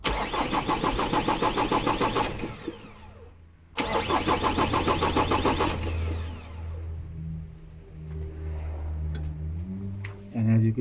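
A 2007 Ford Ranger 3.0 TDCI diesel with its tappet cover off cranks with a rapid rhythmic churn for about two seconds. It cranks again and catches, then settles into a steady idle close by.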